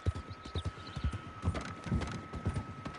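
Horse hoofbeats from riding across a bridge at Stillwater Creek in the video game Red Dead Online, a steady quick clip-clop rhythm heard up close and alone, with a faint steady tone behind it.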